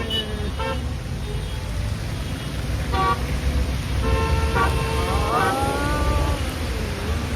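Car horns honk in heavy Diwali traffic during rain, with several short toots and a longer blare sounding over a constant hiss of rain and road rumble.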